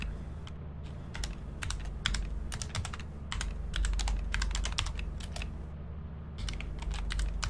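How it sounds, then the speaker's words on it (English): Someone types on a computer keyboard while gaming, producing irregular bursts of crisp key clicks in quick clusters with short pauses. The clicks are fairly quiet over a low, steady background hum. "I have to like look down at my keyboard to even type"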